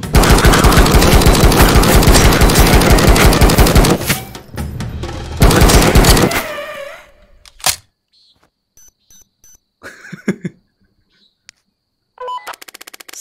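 Rapid gunfire from a horror video game about shooting ghosts, sustained bursts for several seconds, then a second burst, followed by sparse clicks, pops and short effects, ending with another quick rattling burst.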